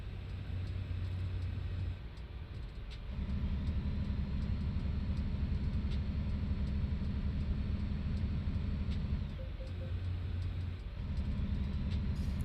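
A newer base-game truck in American Truck Simulator drives along a road with a deep, steady engine rumble. The drone dips briefly twice, as if shifting gears, and then settles back to a constant low growl with no talk.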